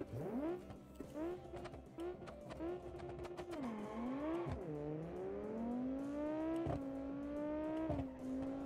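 Group B rally car in BeamNG oversteering and sliding, engine revving up and down in sharp swoops with tire squeal and skidding as the rear kicks out, fairly close and continuous.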